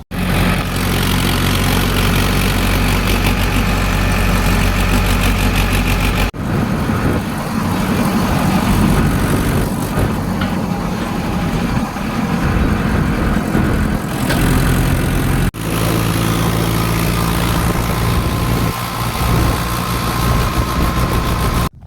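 A tractor engine runs loud and close, a steady low idling rumble with vibration that briefly cuts out twice before resuming at the same even pace.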